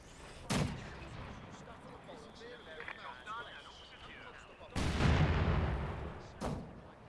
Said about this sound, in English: Mortar going to work from long range